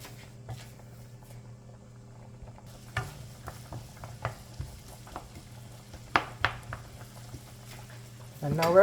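Garlic and onion fry in a pan with a soft, steady sizzle, broken by scattered clicks and scrapes of stirring that grow a little louder toward the end.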